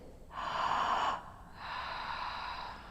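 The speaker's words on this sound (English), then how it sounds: "this type of breathing when you finish will help you to feel really activated, but also very connected" A forceful yoga breathing exercise: a strong, sharp exhale lasting close to a second, then a softer sustained breath, both audible and close.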